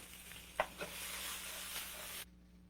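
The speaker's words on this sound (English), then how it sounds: "We're going to keep sauteing that, frying that." Thinly sliced fresh garlic sizzles steadily in a hot pan, with a couple of sharp stirring clicks early on before the frying cuts off abruptly.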